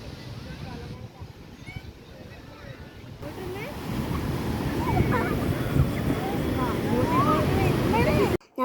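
Sea waves at Valiyaparamba beach in Kerala: a steady, rushing surf roar that swells louder partway through, mixed with gusty wind buffeting the microphone, and the sound cuts off abruptly at the end.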